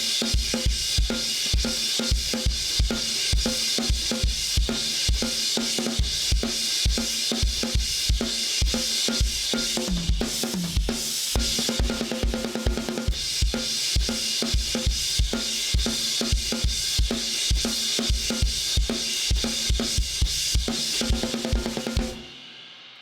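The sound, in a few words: drum kit playing chorus groove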